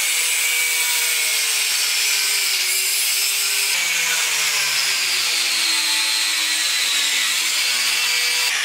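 A power tool cuts steadily through an old metal bed frame with a continuous loud, harsh grinding whine. The pitch drifts slightly as the tool bites into the metal, and no voices are heard.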